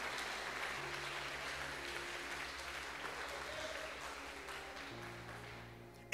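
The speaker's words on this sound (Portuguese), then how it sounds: "Quem pode aplaudir o nome de Jesus e dar glória ao nome dEle?" Steady crowd applause fills the space over sustained keyboard tones, ending in a sudden loud burst.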